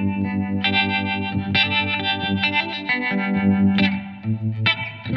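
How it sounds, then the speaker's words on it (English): An electric guitar plays chords through a Blackstar ID:CORE V4 Stereo 40 amp's tremolo effect, the tone swelling and throbbing smoothly, Leslie- or Univibe-like, rather than chopping on and off. "you can hear there's almost like a pulsation rather than a hard stop"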